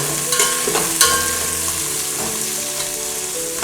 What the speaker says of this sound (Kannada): ಇದೊಂದು ಗೋಲ್ಡನ್ ಬ್ರೌನ್ ಆಗೋ ತನಕ ಉರಿಬೇಕು